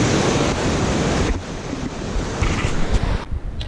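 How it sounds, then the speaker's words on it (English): Water rushing along a small, deep creek near a park, a steady broadband wash, loud and close, with wind buffeting the microphone at times; no one speaks. "Sure doesn't look like these streams are moving very fast, but they are."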